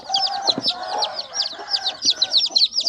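Chicks and hens are lifted out of a crate, giving a busy chorus of high, rapid chick peeps over lower hen clucks, with a few soft thumps of handling nearby.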